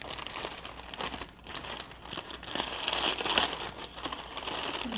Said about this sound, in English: I'm going to take them out of the parchment to do that.